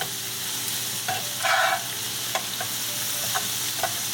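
Shrimp sizzle in melted butter on a tawa griddle, a steady close frying hiss broken by scraping stirs and a louder burst of spatter partway through, with no talking.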